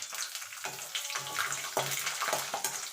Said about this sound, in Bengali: এখানেও কিছুটা বাদাম ভেজে নেব।